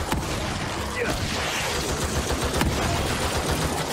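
A dense, noisy barrage of gunfire from shotgun and harpoon weapons echoes through a fight in The Evil Within 2. Sharp shots punctuate a constant wash of game sound, with faint talk mixed in.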